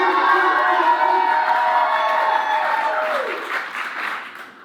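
An audience at a comedy roast championship show applauds loudly and steadily, a dense wash of clapping that fills the room and then fades out toward the end.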